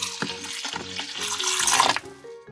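Water splashes and pours over a toy dog during a pretend bath, a busy wet rush that builds to a louder burst before easing off, with no talking.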